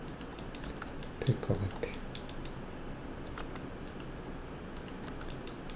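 Keyboard taps and mouse clicks at a computer during 3D modeling in Maya, light scattered clicking with a short burst of activity, faint beneath someone speaking Korean.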